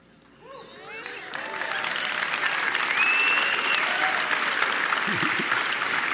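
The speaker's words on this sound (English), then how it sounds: "One more round of applause for Dr. Peterson." An audience gives a round of applause for Dr. Peterson at a talk, swelling from scattered claps into sustained, loud clapping that holds steady to the end, with faint voices mixed in.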